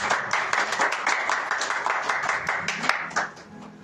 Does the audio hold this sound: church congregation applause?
yes